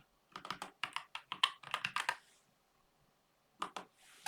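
A computer keyboard being typed on at close range, with a quick burst of about a dozen crisp keystrokes, a short pause, then a few more taps.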